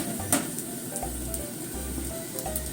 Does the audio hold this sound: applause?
no